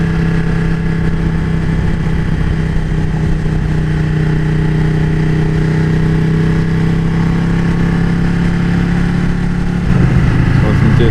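A 2015 Ducati 1299S engine hums steadily while cruising after the throttle is rolled off, a loud constant drone with a slight shift in pitch near the end, joined by wind rush.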